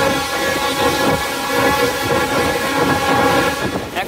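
Commuter train rolling past a rail gate, a dense steady rumble and rattling clatter of wheels heard from on board, loud and continuous.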